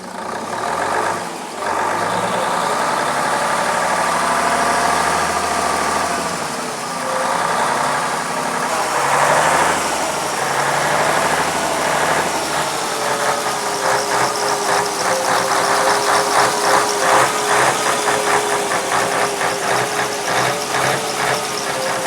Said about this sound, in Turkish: Şimdi isterseniz şu motorun sesini bir dinleyelim.